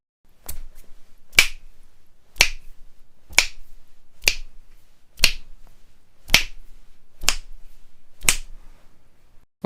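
Finger snaps keep time with a beat, about nine crisp, evenly spaced snaps around one second apart, close and alone with silence between them.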